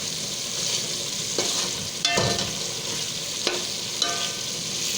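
Chicken malai boti frying over a high flame, with a steady sizzle of oil throughout and a few sharp scrapes and clinks as the pieces are stirred in the pan; no voices.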